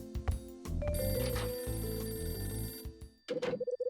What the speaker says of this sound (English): Mags makes her way into the other room to answer the phone.